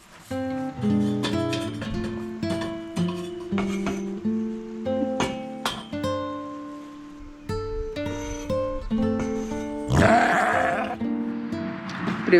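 Sheep bleating, including a black ram, on a farm: a series of loud, close, wavering bleats overlapping one another, with a brief rustling scuffle near the end.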